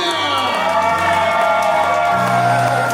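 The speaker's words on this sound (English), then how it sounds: "Let's give them a big round of applause." Wedding guests cheer and applaud at a reception dance, a loud, dense crowd roar with whoops and steady clapping; music with a sustained low tone plays beneath.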